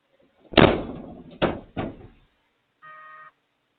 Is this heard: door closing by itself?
yes